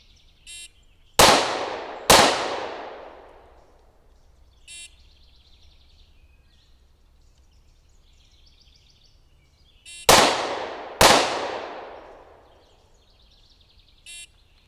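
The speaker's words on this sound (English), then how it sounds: "I'm going to fire 2 pairs out of the M&P Compact 40." Two quick pairs of sharp, loud pistol shots from an M&P Compact 40 fired at 30 feet, each report ringing out with a decaying echo, separated by a long pause with faint electronic beeps before and after.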